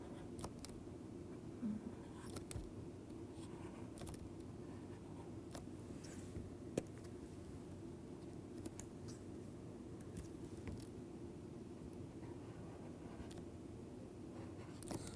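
Faint scratchy strokes of writing on a board in a physics lecture hall, with scattered taps and scrapes over a steady low room hum and no talking.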